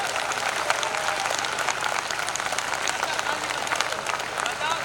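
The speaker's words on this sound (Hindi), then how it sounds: "बजा के आप भी बताओ कि ताली बजती कैसे है।" An audience at a school event applauds a performance by the children, a sustained crowd of hands clapping evenly throughout, with some voices underneath.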